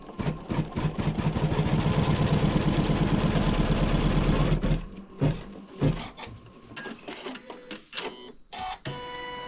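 An embroidery machine stitches down a zipper along its center line, a dense rapid mechanical chatter that runs steadily for about five seconds, then stops and gives way to scattered clicks and handling noises.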